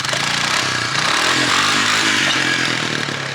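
A Honda FourTrax ATV on new wheels and tires revs loudly while being ridden for wheelie practice, a continuous buzzing engine drone rising and falling in pitch, close and dominant with no voices.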